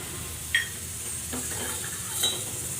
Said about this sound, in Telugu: కొంచెం జీడిపప్పులు కిస్మిస్ ఇది గుమ్మడి గింజలు వేసాను ఇవి వేయించి తీసేసుకొని